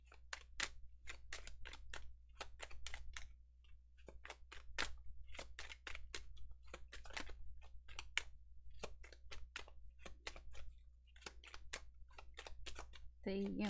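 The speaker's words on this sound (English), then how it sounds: "Okay, enough shuffling" Tarot cards are shuffled by hand in a quiet room, a rapid, irregular series of crisp riffling snaps and taps, close and fairly faint.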